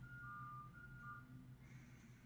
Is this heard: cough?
no